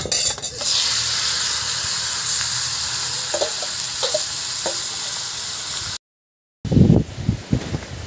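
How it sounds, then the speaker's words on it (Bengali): Elephant foot yam sautéing in a pan with a little water, a steady loud sizzle and hiss with a few soft stirring clicks, cut by a brief silence before a burst of clattering and scraping. "আর একটু সামান্য জল দিয়ে আমি কষে নিলাম যাতে কাঁচা গন্ধটা না বেরোয়"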